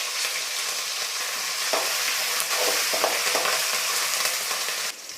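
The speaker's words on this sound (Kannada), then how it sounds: "ಎಣ್ಣೆ ಬಿಸಿಯಾಗಿದೆ ಸಾಸಿವೆ ಸೇರಿಸ್ಕೊಳ್ತಾ ಇದ್ದೀನಿ" Mustard seeds, urad dal, chopped chilies and curry leaves fry in hot oil with a steady, crackling sizzle, broken by occasional stirring scrapes and with no talk over it.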